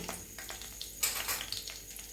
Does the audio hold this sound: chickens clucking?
no